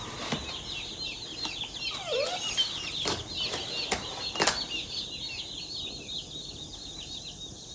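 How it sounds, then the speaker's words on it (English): Many small meat bird chicks peep continuously in a busy chorus nearby, with occasional soft thumps and rustling. "Our meat birds are here"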